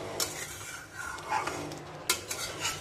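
Onion, beetroot and carrot fry in ghee while being stirred, a soft sizzle broken by scraping and a few sharp utensil clinks against the pan, fairly quiet throughout.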